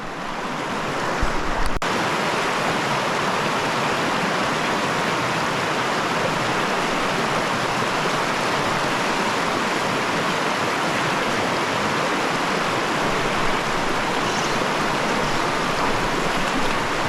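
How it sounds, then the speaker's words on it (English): A stream's current rushes hard against rocks, a loud, unbroken wash of water that holds steady throughout. "Current's driving into the rocks."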